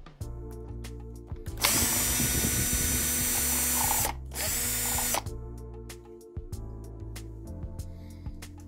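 A power drill runs in two bursts of steady whirring, with a short break between them, to unscrew a small screw inside a Samsung Q990b soundbar; these are framed by close ratcheting clicks and small mechanical handling noises, with no talk.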